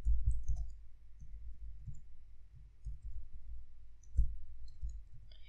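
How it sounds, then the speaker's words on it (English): Someone typing on a computer keyboard, with soft, irregular clicks close by and a few sharper taps, quiet overall. "So let me just type in anything random like my new YouTube channel."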